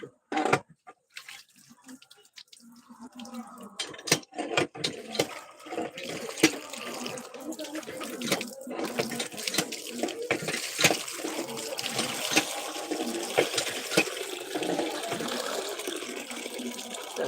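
Banana flower rinsed in a kitchen sink under a running tap: steady splashing and gurgling water runs continuously after a quiet start, with scattered drips and clatters on top.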